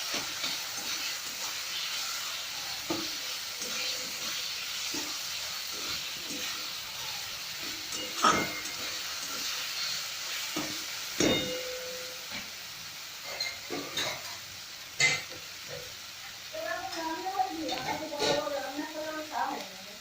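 Mustard masala fries in oil for hilsa while being stirred, giving a soft hiss with scattered spatters and clinks of the spoon against the pan; a voice talks over it toward the end.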